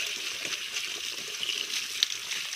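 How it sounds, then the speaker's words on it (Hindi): Water gushes steadily while air conditioner filters are rinsed clean, a continuous splashing flow with one small sharp clink near the end; no speech. "हमने जिसके जो फिल्टर थे वो हमने धो लिए हैं अच्छे से"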